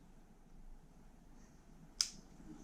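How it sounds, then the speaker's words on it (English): A single sharp click from the switch of a Comlife rechargeable battery-operated mini desk fan stands out against a quiet background hum. "Hear that click?"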